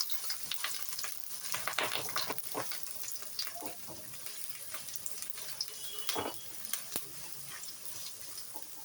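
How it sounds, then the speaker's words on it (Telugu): Green chillies and curry leaves frying in oil in a pan, a steady close crackle and sizzle with scattered sharp pops and stirring scrapes, no voices. "అలాగే 8 కట్ చేసి పెట్టుకున్న పచ్చిమిర్చి, 2 రెమ్మలు కరివేపాకు వేసుకొని కొద్దిగా ఫ్రై చేసుకోవాలి."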